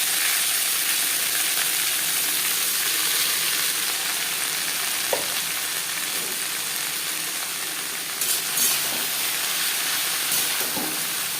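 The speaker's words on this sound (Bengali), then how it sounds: "কালো জিরে ও লঙ্কার সাথে শাক বেশ ভালো করে মিক্স করে দেবো।" Red amaranth greens fry in a pan with black cumin and chilli, giving a steady, loud sizzle throughout with a few soft clicks of stirring.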